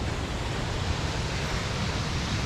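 Steady wash of Bjarnarfoss waterfall on Iceland's Snæfellsnes Peninsula, an even broadband rush of falling water mixed with wind, moderately loud and unbroken over a few seconds.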